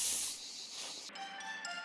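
A scent spray bottle hisses in theHunter Classic, a steady airy spray that cuts off about a second in, followed by a quieter high tonal ringing.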